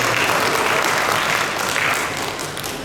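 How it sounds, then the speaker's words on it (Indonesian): Sustained audience applause fills a ceremony hall during a Bali Ansor inauguration, a dense, steady wash of many hands clapping at close range that fades slightly toward the end. "Tepuk tangan untuk Bali."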